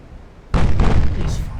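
Naval guns fire in the warship battle game Ultimate Admiral Dreadnoughts, a sudden heavy boom breaking out of quiet and rumbling on as a thick sustained blast.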